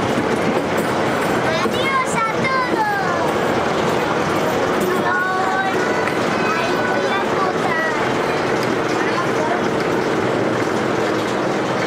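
Roller coaster train at Parque de Atracciones de Madrid rumbling steadily along its track, with rattling wheels and rising and falling screeches over loud continuous noise, while people talk and shout nearby.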